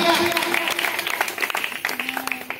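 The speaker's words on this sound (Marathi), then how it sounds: "अरे वा एकदा काकूसाठी जोरदार टाळ्या मारूया।" An audience applauds loudly for an elderly woman at a lively Home Minister game-show event in Kunkeshwar held for MP Narayan Rane's birthday. Dense clapping continues under a voice talking over it.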